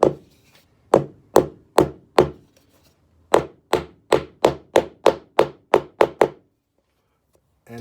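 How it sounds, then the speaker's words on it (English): A hammer drives a wooden plug into a teak boat deck: about fifteen sharp, loud wooden knocks in two steady runs separated by a brief pause, close by with no talking. "Take your hammer,"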